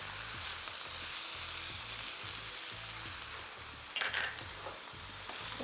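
Chicken fried rice sizzles steadily in oil with soy sauce in a hot pan, a continuous close, bright crackle with a brief louder burst of spatter near the end.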